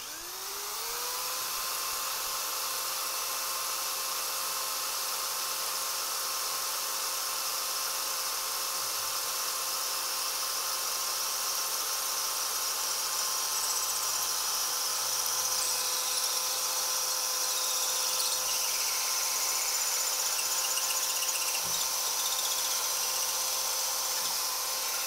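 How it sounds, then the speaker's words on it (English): A rotary drill bores into vertical cored brick with a steady, high whining hum that holds evenly for about twenty-five seconds, with no voices. "We advise using a rotary drill when drilling in vertical cored brick."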